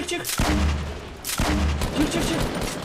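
Two loud, close sniper rifle shots from the video game Fortnite, about a second apart, each with a booming tail.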